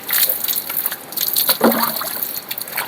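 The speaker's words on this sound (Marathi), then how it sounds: "आज गार पाण्यानं आंघोळ करायला मला चॅलेंजेस करूया बघूया काय होते" Cold water is poured over a person during a bath on a chilly morning, close, uneven gushes and splashes with brief pauses between pours.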